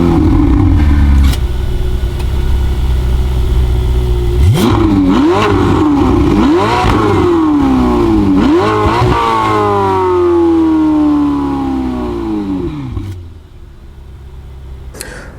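A rented Ferrari supercar engine revs hard several times in quick succession, loud and close, rising and falling in sharp sweeps before settling back to a lower idle near the end.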